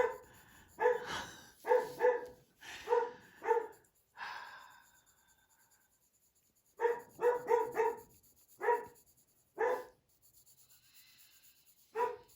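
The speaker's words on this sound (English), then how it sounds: "He really isn't an obnoxious dog. He doesn't bark all the time." A dog barks in repeated bursts of several sharp barks, close and loud, with a quiet pause in the middle before another run of barking.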